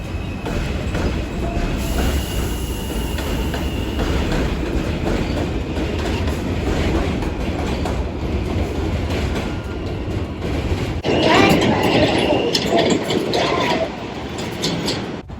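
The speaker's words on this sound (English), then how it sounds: "This is the M train." An NYC subway M train running above ground through Brooklyn, its steady wheel rumble and clickety-clack continuous and close, swelling louder with brighter rattling and screeching near the end.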